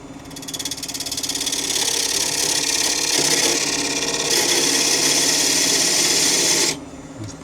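Wood lathe parting off a piece of oak, a continuous loud whirring hum with a scraping, rasping cut that holds steady and then stops abruptly near the end.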